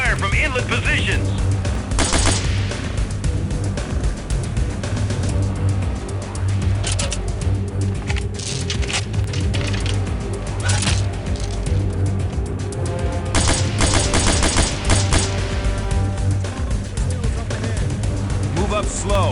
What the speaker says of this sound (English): encountering heavy fire from inlet positions